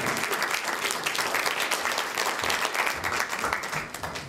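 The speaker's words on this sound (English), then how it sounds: "Let me give a big round of applause for Dan." Audience applause for a volunteer named Dan being called up onstage, a steady dense wash of many hands clapping at once, filling the whole clip without letup.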